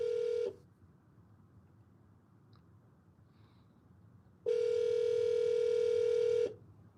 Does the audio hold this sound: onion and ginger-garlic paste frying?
no